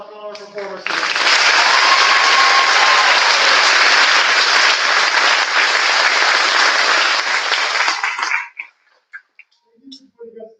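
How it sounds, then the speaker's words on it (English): Sustained applause from an audience at a senior recognition ceremony, dense steady clapping that swells in, holds for several seconds, then cuts off abruptly, leaving a few faint stray sounds. "One more round of applause for all our performers today."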